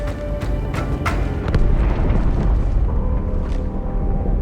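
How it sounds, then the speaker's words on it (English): A deep rumbling explosion booms from inside a ship in Halo 2, with sharp cracks at first and then a sustained low roar; no one speaks. "That explosion came from inside the Athens."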